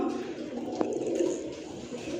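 Pigeons at a seller's stall, including highflyer Giribaz, Chila and Gorra types, giving soft low cooing in a murmur, with a voice speaking nearby.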